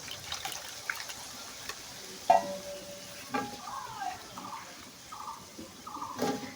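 Vegetables hit fried masala in a pan and a spoon stirs them, giving soft sizzling with sharp intermittent scrapes and clinks against the pan at a moderate, fairly quiet level.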